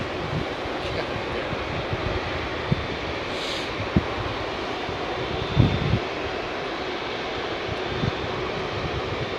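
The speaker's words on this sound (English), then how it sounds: "the jumbo will go out of the northern runway" Jumbo jet taking off from the northern runway at Heathrow Airport, a steady broad roar of jet engines heard from a distance, continuous and fairly loud with a few faint knocks along the way.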